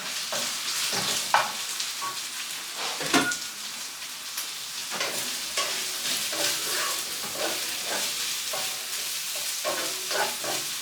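Sliced chestnut mushrooms sizzle in butter in a pan, a steady bright frying hiss with intermittent stirring scrapes and clicks, close and continuous.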